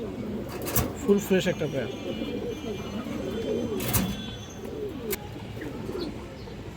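A pair of black Musaldom pigeons coo close by in soft, repeated throaty phrases, with someone talking over them and a few sharp clicks.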